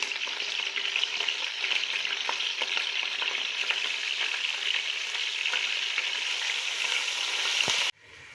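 A bowl of finely chopped onions fries in hot oil, giving a steady loud sizzle with faint crackles and stirring scrapes. It ends in a sharp clatter, and a quieter hiss follows.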